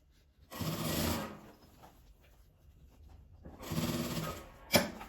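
A sewing machine stitches a folded fabric strip in two close, steady runs of rapid whirring, separated by quieter handling of the cloth and ending in a brief sharp click.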